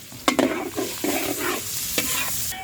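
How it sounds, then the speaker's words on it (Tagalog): Garlic, onion and curry frying in oil, stirred in a pan with scraping strokes over a steady sizzle, close and moderately loud, no talking. "Tayo ng bawang, sibuyas at yung ating curry. Unahin natin yung curry pagluto."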